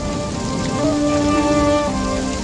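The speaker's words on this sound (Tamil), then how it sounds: "இந்த அடர்ந்த மழையின் ஒவ்வொரு துளி நீருக்கும்" Heavy rain pours steadily, a dense continuous hiss of drops striking surfaces, loud and close throughout with no voices.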